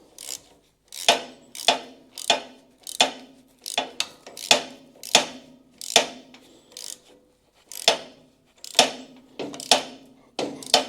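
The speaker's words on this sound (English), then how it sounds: "Just have a go at gently tightening up these bolts." Repeated ratcheting clicks from tightening bolts on a kinetic log splitter under repair, a dozen or so sharp bursts in a steady rhythm, close by and fairly loud with no talking.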